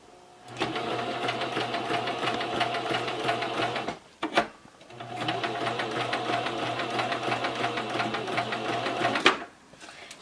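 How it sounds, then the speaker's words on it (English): A sewing machine stitches a pillow seam in two sustained, even runs of rapid mechanical whirring and chattering, close and loud, broken by a brief pause with a couple of knocks in between. "And I'm going to just sew the rest of this"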